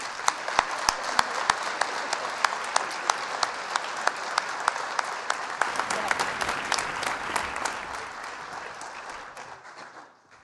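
Applause from the audience at a college athletics awards and hall of fame ceremony, dense steady clapping with a few sharp louder claps, sustained for about eight seconds before thinning and fading out.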